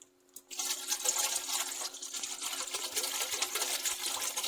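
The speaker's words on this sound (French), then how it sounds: "Nous allons mixer." A kitchen blender whirs continuously after a brief start, blending ingredients for Cameroonian koki with a steady high-pitched motor whine and churning liquid, close and loud.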